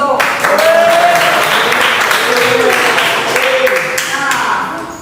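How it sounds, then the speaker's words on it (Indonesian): A classroom of students applauds a classmate named Dito during a geography lesson, steady clapping filling the room for about five seconds, with voices and chatter mixed in underneath. "Ya, tolong beri tepuk tangan kepada Dito."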